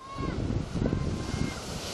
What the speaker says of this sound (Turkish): denizde ise büyük dalgalar görüldü